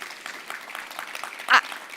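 Audience applause at a food access and healthy eating forum in Georgia, a faint, steady patter of many hands clapping across the room, with a brief louder burst near the end.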